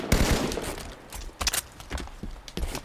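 Gunfire in the video game Halo 5 on a Forge map comes as a few sharp shots and short bursts over about three seconds, moderately loud with a rattling tail between them.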